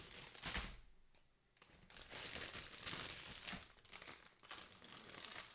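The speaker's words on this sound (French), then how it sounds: "Premier sac qu'on va ouvrir ici." Crinkling plastic as a bag of Bandai HG Neue Ziel model kit parts is opened, with steady rustling and crumpling close to the mic, briefly easing before resuming.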